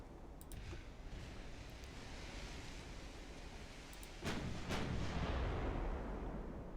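Warship guns fire in the naval battle game Ultimate Admiral: Dreadnoughts. Distant booming reports land over a steady wash of sea and engine noise, and a heavier rumbling volley swells near the end.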